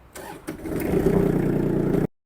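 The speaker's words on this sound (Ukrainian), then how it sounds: "Дамо двигуну трішки прогрітись" A Kubota T-240 mini tractor's diesel engine cranks briefly, then catches and runs at a steady, loud idle for over a second before cutting off abruptly.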